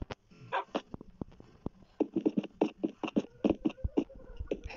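Dog barking in the Minecraft video game, a rapid series of short yips and barks in irregular bursts, close and clear with no talk.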